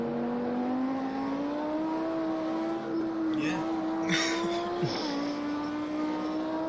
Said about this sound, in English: Why don't we go on board some of the cars and just listen to the engine sounds for a little bit? Starting with the Audi.